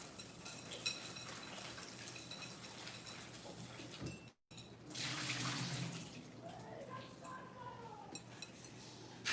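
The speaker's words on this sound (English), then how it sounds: "Rinse off my Brussels sprouts." Tap water runs and splashes over Brussels sprouts being rinsed in a bowl during home kitchen meal prep. The steady rushing stream is close and fairly loud, breaks off briefly, then resumes with faint clinks.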